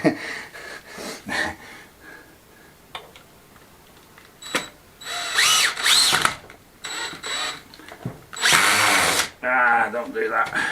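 A power drill drives a screw into a plugged hole while fitting a new handrail to a Catalan vaulted staircase, sounding in several short whirring bursts of rising pitch, with brief clicks and pauses and a person talking in between.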